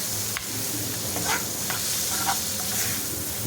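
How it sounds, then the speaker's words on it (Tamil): Tomato and onion fry in a pan for a quick kuruma, with a constant close sizzle broken by several soft scraping stir strokes. "இப்போ நல்லா கலந்து விடுங்க தக்காளி வெங்காயம் எல்லாமே நல்லா வதங்கி வந்துடும்"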